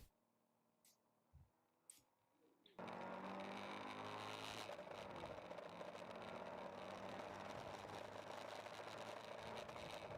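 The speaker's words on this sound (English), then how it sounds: "And the Bandits team is coming into the pits. So in comes the Pontiac." A Pontiac endurance race car with a Screaming Eagle on the hood rolls into the pits, its engine noise rising suddenly and then holding as a loud, dense, continuous drone after a quiet start.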